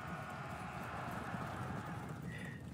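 Galloping light horse hooves in the Pike and Shot strategy game, an Ottoman versus Imperial battle, make a continuous, steady clip-clop drumming mixed with a dense battle ambience, with no talking.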